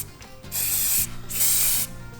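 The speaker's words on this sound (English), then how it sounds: "Okay, so now I'm gonna dust this with the spray." Two long hissing bursts from an aerosol spray can, each lasting about half a second, with a short pause between them.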